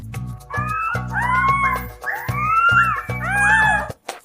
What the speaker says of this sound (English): they uploaded a video of the little wolves howling